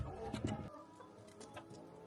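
Hens clucking close by at a backyard coop, with a burst of busy low clucks followed by softer scattered clucking, brief and fairly quiet.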